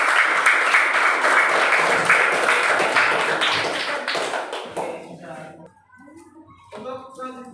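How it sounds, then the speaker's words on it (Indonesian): Students in a classroom clap for a group, a dense burst of many hands lasting about four seconds before thinning out, after which a teacher's voice begins speaking. "Beri tepuk tangan untuk kelompok 6."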